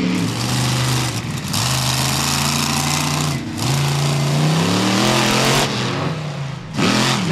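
Racing truck engine revving hard on a beach sand track at Wildwood, NJ, loud and close, rising and falling in repeated surges with brief dips between pulls.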